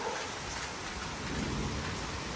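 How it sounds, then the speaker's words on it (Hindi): Heavy rain pours steadily throughout, a dense continuous hiss of drops drumming on surfaces, loud and close with no voices. "इतनी बारिश आ रही है।"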